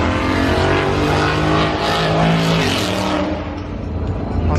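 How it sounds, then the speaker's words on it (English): A Ford Mustang's engine roars loud and close at a car show, a rough, throaty rumble that surges and swells before easing slightly at the end. "Mustang is loud."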